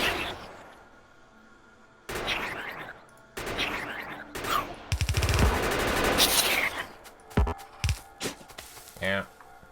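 Enemies fire guns at the player in the factory-building video game Factorio. Rapid bursts of gunfire come in uneven clusters, loud and close, mixed with talking between the bursts.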